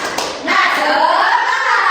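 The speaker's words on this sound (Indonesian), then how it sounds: "yuk kita tepuk semangat dulu yuk" A classroom of children claps along in a rhythmic spirit clap, a burst of hand slaps followed by a dense, sustained wash of clapping and young voices, close and loud.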